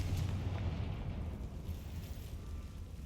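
A Confringo spell explodes in the video game Hogwarts Legacy, a deep rumbling blast that booms loudly at the start and then decays into a low, lingering roll.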